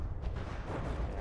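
Ammunition locker exploding aboard a battleship in the naval combat game From The Depths: a loud, continuous low rumbling blast with crackling debris noise, sustained throughout.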